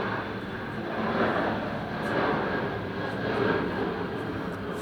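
A Southwest Airlines plane passing overhead, a steady, broad roar of jet engine noise that swells gently and holds for several seconds.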